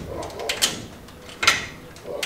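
A newly built sliding door for a terrace is pushed shut, giving two sharp knocking thuds a second apart over a soft rolling scrape, fairly close.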